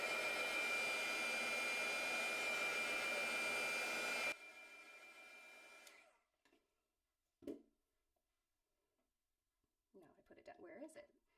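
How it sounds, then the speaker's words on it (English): A blower drying wet watercolour paint, a loud steady rushing roar that runs continuously for about four seconds, then cuts off, followed by faint handling noises and some quiet speech. "I'm just going to blast it dry so that I can make sure."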